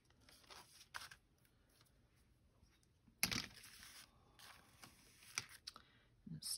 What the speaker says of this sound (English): Just snip this off right here.